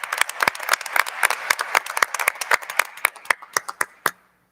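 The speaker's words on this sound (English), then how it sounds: "could we give this group a round of applause, please?" A burst of hand clapping from a small group at a school board meeting, lively and dense at first, then thinning into scattered claps before stopping abruptly.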